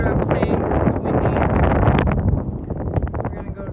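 Steady wind buffeting a microphone, a broad rushing roar with gusty swells, while a person talks over it.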